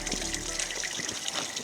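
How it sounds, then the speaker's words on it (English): Wastewater gushes continuously from an opened fish tank outlet, a loud, steady rushing pour of water heard up close and alone. "We are opening the outlet to release wastewater from this tank so we can refill it with clean and fresh water"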